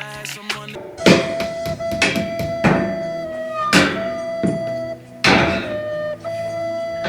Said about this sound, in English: Do I have to like hammer it out so it goes away?